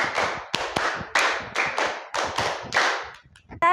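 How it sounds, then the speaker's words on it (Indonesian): A group claps out a counted rhythm in an ice-breaking game, with bursts of several claps each, fairly close and loud, ending with a brief voice. "Tepuk 1, tepuk 2, tepuk 3, tepuk 4, 3 kali tepuk 5."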